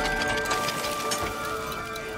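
Steady hiss of video game rain in It Takes Two, a dense patter with a faint tonal hum underneath and no talking.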